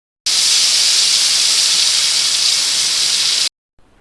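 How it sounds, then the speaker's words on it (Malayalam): A pressure cooker cooking beef lets out a loud, steady rushing hiss of steam that runs unbroken for about three seconds, then cuts off abruptly. "ഇനി ഇതൊന്ന് മൂടി വെച്ച് ഒരു 6 വിസിൽ വരെ നമുക്കിത് കുക്ക് ചെയ്തെടുക്കാം"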